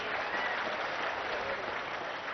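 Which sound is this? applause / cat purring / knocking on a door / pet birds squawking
applause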